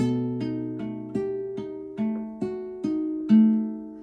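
A classical guitar plays a bar of Tarrega's Estudio, a steady run of plucked notes over ringing bass, each attack distinct and evenly spaced, close and alone.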